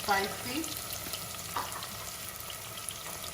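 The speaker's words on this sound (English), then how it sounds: "Hear that sizzling sound that I like so much." Onions sizzle steadily in a hot frying pan while cooking Nigerian beans porridge, a close, crackling hiss with occasional pops and light stirring.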